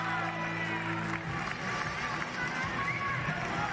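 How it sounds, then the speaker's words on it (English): A stadium crowd at the Paris 2023 Para Athletics World Championships cheers for the universal relay, a continuous distant roar of many voices that holds steady throughout. "cheering on loud for this universal relay"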